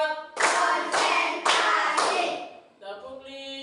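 A class in a school coding lesson claps in rhythm, four loud unison claps evenly spaced, each with a short ringing tail, ending as a voice begins calling the next count.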